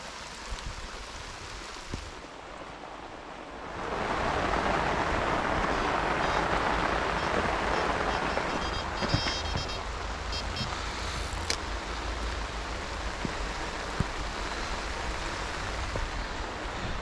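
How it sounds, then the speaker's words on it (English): Heavy rain drums steadily on a fishing umbrella, a dense hiss that swells louder after the first few seconds and holds as a constant downpour, with occasional heavier drips. "I'm going to wait till this rain eases off. It's absolutely hammering it down."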